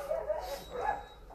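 Dogs at an animal shelter give short yips and whimpering barks, close and moderately loud, over a low background rumble.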